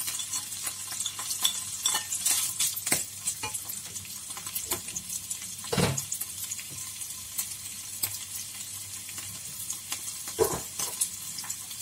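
Pickled bamboo shoots stir-fry in a hot pan with a continuous close sizzle, broken by repeated scraping and clattering strokes of a spatula against the pan, and no one speaking.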